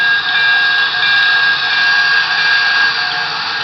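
A steady, bright metallic ringing from the bell of a Broadway Limited Imports Paragon 3 PRR L1s Mikado model locomotive, continuous and fairly loud throughout, with no talking.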